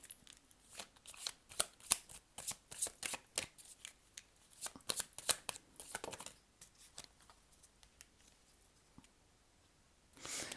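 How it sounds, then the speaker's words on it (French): Tarot cards are shuffled and drawn by hand, giving soft, rapid papery riffles and flicks that come in busy bursts and then thin out into sparse, quiet slides and taps, with no talking. "Maintenant, on va tirer une carte pour la réflexion."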